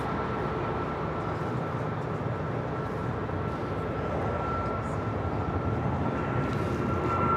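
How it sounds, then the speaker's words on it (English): Cayman Airways jet taking off on runway 25 right at LAX, a steady broad roar of engines held at a moderate distance without letting up. "So Cayman Airways heading to Georgetown, taking off on 25 right."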